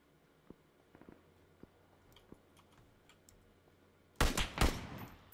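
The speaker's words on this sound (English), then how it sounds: "Alright, yeah, he's shooting at me." Gunfire in the video game PUBG on the Karakin map, faint isolated pops early on, then a loud rapid burst of several close shots near the end.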